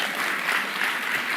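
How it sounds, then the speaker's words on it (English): An audience gives another round of applause for Marsha, a brief burst of steady, even clapping that continues without a break. "let's give Marsha another round of applause"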